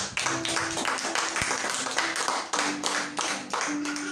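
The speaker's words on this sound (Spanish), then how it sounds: "¿Cuántos le dan palmas al Rey?" A church congregation claps along in a steady rhythmic beat, hands striking in regular pulses throughout, with faint voices and a sustained tone underneath.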